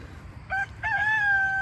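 A rooster crows nearby, a short clear opening note followed by a longer drawn-out call, loud over a quiet outdoor background.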